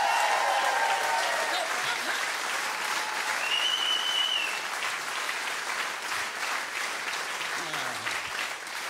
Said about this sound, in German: mir gebührt auch eine Menge Applaus